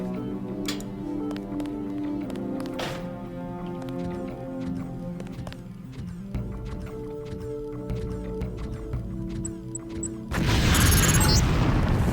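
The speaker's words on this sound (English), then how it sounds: "the lamp will fall to the ground and detonate" A LAM explosive detonates in the video game Deus Ex: a loud, sudden blast near the end follows a stretch of game music and mechanical ambience.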